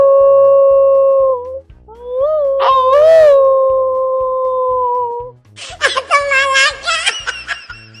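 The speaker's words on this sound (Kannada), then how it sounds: "ನಾಯಿಗಳು ರಾತ್ರಿ ಹೊತ್ತು ಕೂಗ್ತವೆ" A dog gives drawn-out, wavering howls at night, loud and close, with a break between cries, then a burst of snickering laughter.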